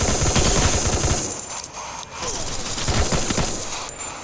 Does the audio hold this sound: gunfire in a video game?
yes